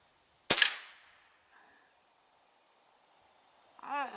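A single sharp shot from a Beeman QB78 .22 caliber air rifle cracks once, loud and close, during accuracy testing at 10 meters, decaying quickly into quiet before a faint squeak near the end.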